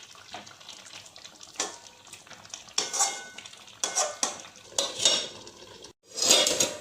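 Chicken being stirred in a covered pan during oil-free cooking, with bursts of spoon scraping and clinking against the metal, separated by short pauses and moist sloshing of released juices.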